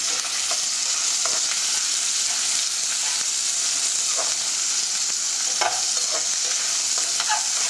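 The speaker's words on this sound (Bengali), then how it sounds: "পেঁয়াজটা অবশ্যই খুব ভালোভাবে লাল করে ভাজতে হবে।" Chopped onions frying in a pan for chapa shutki, with a loud continuous sizzle and repeated scraping stirs of a spoon through the pan.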